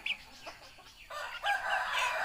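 A rooster, a fighting cock, crows loud and drawn out, starting partway through and carrying to the end, after a few softer clucking sounds.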